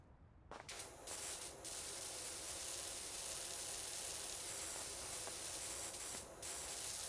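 A pressure washer nozzle in a power washing video game sprays a steady, quiet hiss that runs almost unbroken, with a few brief dips where the jet pauses.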